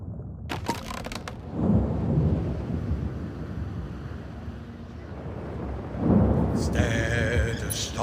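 A thunderstorm at sea in the video game Another Fisherman's Tale brings rumbling thunder swells and wind over a continuous storm roar, with a few sharper crackles and some brief voice-like sounds.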